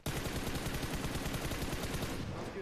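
Rapid automatic gunfire in a video game rattles continuously at close range, loud and dense throughout with no pauses and no talking.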